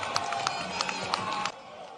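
An outdoor political rally crowd claps and cheers in Lagos, a burst of scattered hand claps and shouts over a noisy background that cuts off abruptly partway through.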